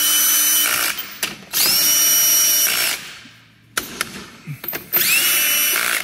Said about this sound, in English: I use that drill with the clutch.